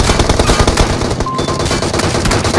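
Dense, continuous automatic gunfire from a battle royale video game rattles loudly and without pause, rapid shots stacking into a steady barrage with a brief dip midway.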